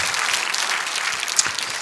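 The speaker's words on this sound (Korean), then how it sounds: "꼭 승리하고 돌아오도록 박수로 한번 격려합시다." A Korean church gathering breaks into sustained, even applause from a large crowd, with one sharper clap standing out near the end.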